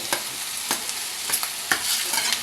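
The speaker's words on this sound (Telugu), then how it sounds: "క్యారెట్ ముక్కలు వేసి మగ్గిద్దాం." Carrot pieces and sambar onions sautéing in a pan for sambar rice, a bright continuous sizzle punctuated by several regular spatula scrapes, close and without any talking.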